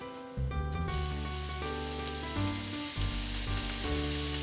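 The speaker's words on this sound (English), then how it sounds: "To my vegetable saute, my mirepoix and garlic, I'm going to add a little bit of all-purpose flour." Mirepoix and garlic sauté in a pan for tomato pasta sauce, a loud close sizzle that flares up sharply after a brief quiet start and then holds steady with a hissing, crackling texture.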